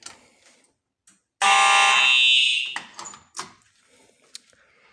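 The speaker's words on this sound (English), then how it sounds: "Every time I activate a specific point, the horns will sound out the device's address." A fire alarm horn blares once for about a second and a half during a system test, sounding a device address, loud and close, then stops, leaving faint clicks and room noise.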